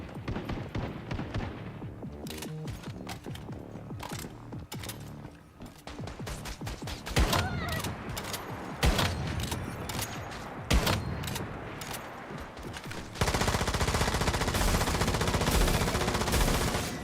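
Light machine gun fire rattles in a video game in dense, rapid bursts of shots. The bursts come in irregular clusters, and the end builds into a heavy, continuous volley.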